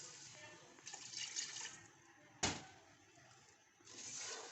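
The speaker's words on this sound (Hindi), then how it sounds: "और 1 कप ही जो है ना इसमें पानी डालेंगे हम।" Water is poured into a pan of milk with cream while cooking sweet rice, a short splashing pour with a sharp clink partway through, fairly faint and with no talking.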